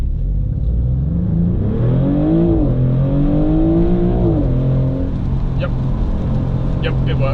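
A Maserati GranTurismo V6 accelerates hard at full throttle from a stop onto a dual carriageway, its engine note rising steadily and loud throughout, with a passenger's voice briefly audible beneath.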